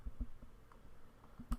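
Quiet computer mouse clicks, a handful of soft single taps spread apart, sounding close but faint against a low hum as dates are picked on an on-screen calendar.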